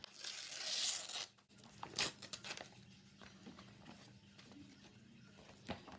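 A paper page torn from a book for collage journaling, a quiet ripping sound near the start followed by soft crinkles and handling noises close by.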